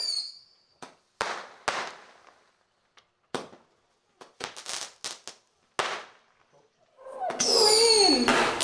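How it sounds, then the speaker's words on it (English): Scattered sharp firecracker bangs pop at irregular intervals, followed by a dense burst of crackling fireworks; a voice is heard briefly. "Look at the noise. That's fireworks."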